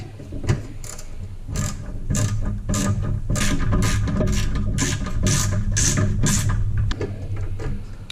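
A 3/8-inch ratchet fitted with a 3-inch extension and a 1/2-inch deep well socket clicks steadily and loudly, close up, in quick repeated bursts while fastening a Spartan manual shield under a mower deck.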